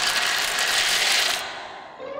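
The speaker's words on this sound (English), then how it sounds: "It was the sound of the baby birds coming out of their eggs." Baby birds crack and crunch their way out of eggshells in a nest, a steady dry crackling and scraping that runs close and fairly loud for over a second, then drops away to a quieter texture.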